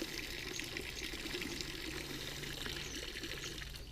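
Water trickles steadily from a touchy little irrigation valve outdoors, a continuous soft splashing hiss with no pauses and no voices.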